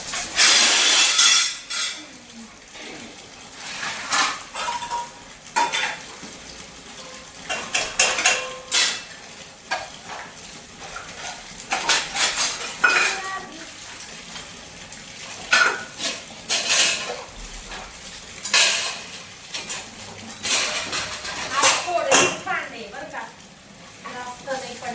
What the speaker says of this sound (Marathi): भांडे घासते.